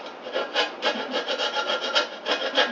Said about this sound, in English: using the wood chisel, I'm going to scrape the excess foam off the frame.